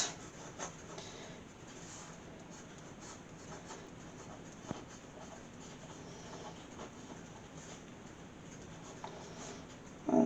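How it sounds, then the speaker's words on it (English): Pen writing on a greeting card in a craft studio, a steady scratchy rubbing of the tip across card stock that runs the whole time with brief taps, close and quiet, with no talk. "we're just going to write a little card"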